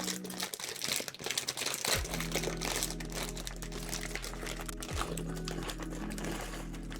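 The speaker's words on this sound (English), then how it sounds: "plastic bag opening ASMR" A plastic bag of LEGO pieces is torn and opened, giving dense close crinkling and crackling plastic that runs on without pause, loud and alone.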